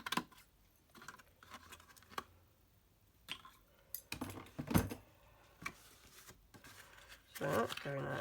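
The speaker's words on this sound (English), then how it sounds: "I might get my big scissors for this bit." Several crisp snips of scissors cutting close by, scattered irregularly with light clicks and rustling between them.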